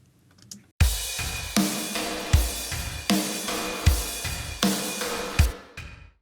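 Drum loop processed with compression, EQ and crunchy distortion, its stereo image narrowed; loud punchy kicks and bright snare hits repeat in a steady groove, cutting off with a short tail at the end.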